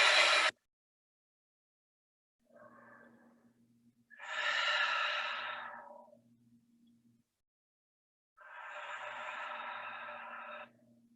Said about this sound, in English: Take 3 deep sighing breaths here.